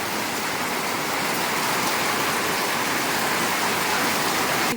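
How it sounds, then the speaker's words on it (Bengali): Steady rain falls in a village, a continuous dense hiss of drops with no breaks, moderately loud and with no voices over it. "ধারে বৃষ্টি পড়ছে দেখতে পাচ্ছ মানে এইবার বৃষ্টি বৃষ্টি শুরু"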